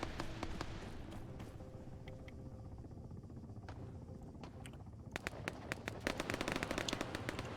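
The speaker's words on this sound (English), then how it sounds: "So that's them firing at Lucky's body, I bet" Bursts of automatic gunfire in a military video game about Russian airborne forces, dense rapid volleys with scattered sharper cracks that thicken and grow louder toward the end, no voices.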